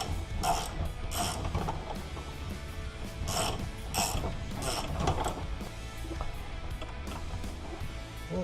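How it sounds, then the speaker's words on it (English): Ratchet tightening an alternator bolt on a Toyota/Lexus V6 engine, a series of close metallic clicking bursts in short runs over a steady low background hum, with no talking. "we just got to tighten up this alternator bolt"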